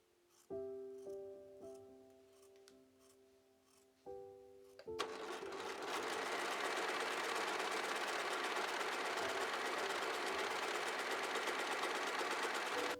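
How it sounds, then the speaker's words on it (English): A serger overlocks fabric pieces for cozy pants, opening with a few tonal beeps and short starts, then running in a loud continuous whirring stitch for several seconds. "Right, everything has been serged."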